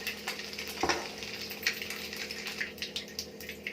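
Eggs fry in a hot pan with a steady, crackling sizzle, punctuated by a sharp scrape near the start and scattered pops, moderately close and with no voices.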